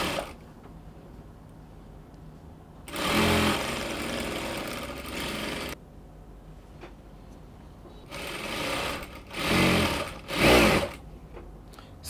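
Sewing machine stitching the seam of a wrap dress with a 1-inch seam allowance, running in two bursts: a steady run of a few seconds, a pause, then shorter stop-start runs near the end, close and clear with no talk.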